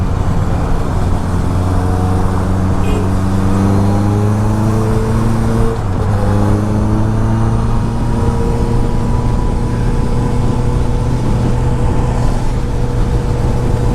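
A Honda CBR 650R motorcycle engine runs steadily at high RPM while riding, a loud, continuous harmonic drone that climbs gradually in pitch and briefly dips before climbing again.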